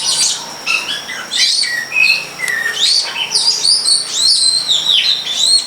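A wild long-tailed shrike sings outdoors, with a busy stream of varied chirps, whistles and harsh squawking notes close by and loud, continuing without pause.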